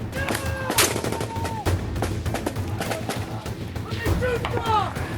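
Sharp bursts of gunfire from Taliban fighters in a tree line crack repeatedly at a distance during a Marine assault, amid shouting voices and general field noise.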